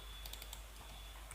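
Quick, soft keystrokes on a computer keyboard, a handful of light clicks in a short burst over a steady background hum, close and quiet.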